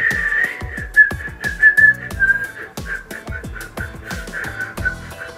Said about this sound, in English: Oh, and whistling, I can't whistle either.